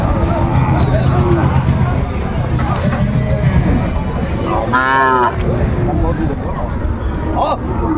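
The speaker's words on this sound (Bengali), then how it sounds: "এই যে ষাঁড়, বিগ সাইজের।" A Sahiwal bull calf gives one loud, drawn-out moo at a busy Dinajpur cattle market, rising out of constant crowd chatter and bargaining voices close by.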